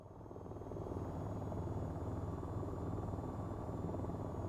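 Fighter jet engine roaring at full throttle in a VR flight game: a steady, dense, low rumbling drone that swells slightly at the start and then holds constant and loud throughout.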